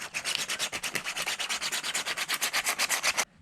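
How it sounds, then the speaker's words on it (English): Rough 36 or 24 grit sandpaper rubbed hard back and forth on a BMW E46 325xi front lower control arm part, a fast, steady run of about two dozen close, loud scratchy strokes that stops abruptly. "So use some rough sandpaper. I'm just using some like 36 grit or 24 grit."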